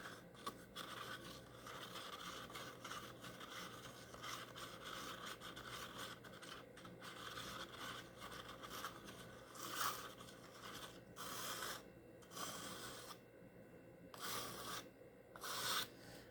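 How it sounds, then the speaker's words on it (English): Casting powder being mixed in a cup, its sides and bottom scraped, repeated close scraping and rubbing strokes that come in bursts and grow louder toward the end, with no voices. "Make sure you've got all your lumps out. Scrape your sides, get your bottom."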